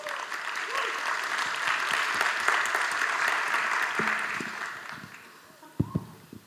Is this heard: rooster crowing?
no